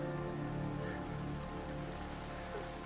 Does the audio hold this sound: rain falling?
yes